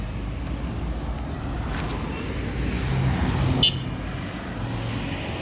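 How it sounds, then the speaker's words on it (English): Morning rush-hour road traffic in Georgetown, Guyana: a steady wash of passing cars with a low rumble throughout, swelling slightly around the middle, with one brief sharp hiss or horn-like burst near the end and no talking. "traffic coming out of South at rush hour, it's about 8:30 in the morning"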